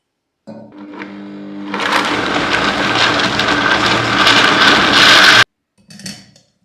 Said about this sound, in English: I'm just going to chop these up so my blender doesn't choke.